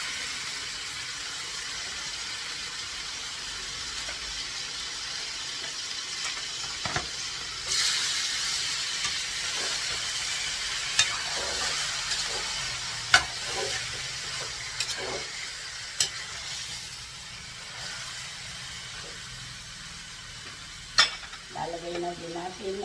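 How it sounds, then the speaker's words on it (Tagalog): Two kilos of pork belly with tomatoes sizzling and frying in a pan, a steady hiss broken by occasional clinks and scrapes of stirring. "Ihuhulog na natin ang ating pork belly."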